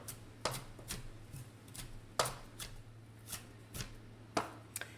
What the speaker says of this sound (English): I've just got myself a bigger knife and I'm going to chop them like I chopped the parsley